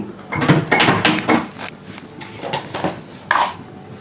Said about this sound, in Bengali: এবার জ্বালালাম গ্যাস জ্বালিয়ে প্রেসার কুকারটা বসিয়ে দিলাম